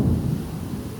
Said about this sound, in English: Thunder's way louder. This is the big storm.